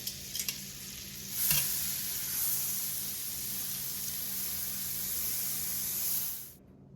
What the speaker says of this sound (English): Just went in with some butter.